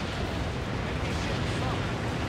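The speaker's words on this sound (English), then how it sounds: "Fire all the cannons!" Heavy warship cannons fire in the naval combat game Warship Gunner 2, a dense, continuous rumbling barrage of booms that fills the whole stretch at steady loudness.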